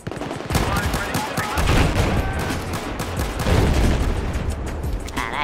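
Rapid bursts of gunfire in Battlefield 4 crackle continuously, dense and loud like automatic weapons, with a voice faintly underneath.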